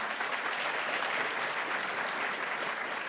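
Sustained, even applause from a college audience, a dense uniform roar of many hands clapping at a constant level for the whole stretch, with no voices on top.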